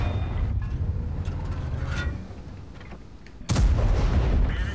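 In the World of Tanks video game, a tank shell is fired with a heavy boom that rumbles briefly, followed a moment later by a sharp metallic impact burst as the shot bounces off armor, all close and loud.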